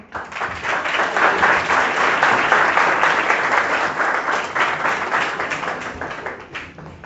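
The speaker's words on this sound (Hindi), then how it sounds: "जो जोरदार तालियां बजाएं यहाँ पे" Loud applause from a seminar audience at a motivational talk by a decorated army major in India, dense sustained clapping that swells, holds for several seconds, then tapers toward the end.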